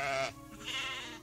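Sheep bleat on grassy mountain slopes where cattle and horses also graze: two wavering, nasal bleats, the first short and strong, the second longer and slightly fainter, heard at moderate distance with no talking.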